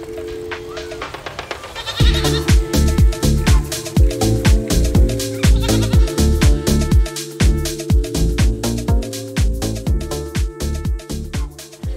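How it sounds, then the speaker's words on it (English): Goats bleating loudly and repeatedly up close, overlapping calls in a quick, continuous string after a brief quieter start. "There's goats running around here."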